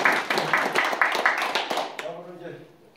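An audience at the Korean Arbitration Association's winter academic conference claps for a professor after a presentation: a dense burst of applause for about two seconds, then quickly thinning and fading out as a voice carries on underneath.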